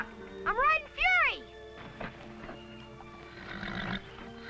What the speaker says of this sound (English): I'm riding Fury!